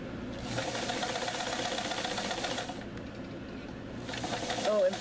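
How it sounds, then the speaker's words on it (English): Close by, a sewing machine runs a quarter-inch seam on fabric for a tissue case, a fast, steady mechanical whir that slows and stops partway through, then starts again; someone talks quietly over it. "And then sew a 1/4 inch seam."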